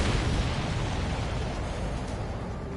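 A tanker aircraft blowing up in the Ace Combat 7 air-combat game, with an F-14 in the fight: a sustained, heavy rumbling explosion with deep low-end roar that fades slowly, heard alone.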